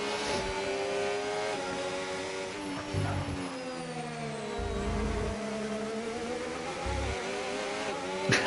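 Formula 1 race car engines from an F1 league race at Barcelona whine at high pitch, rising and falling with gear changes over a steady drone, moderately loud and without talk.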